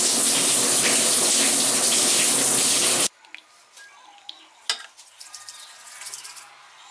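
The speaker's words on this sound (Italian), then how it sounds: "devo fare una doccia, darmi una sistemata, fare anche i capelli." Shower water runs loudly as a steady full-band rush for about three seconds, then cuts off abruptly, leaving quiet room sounds with a few small knocks and clatters.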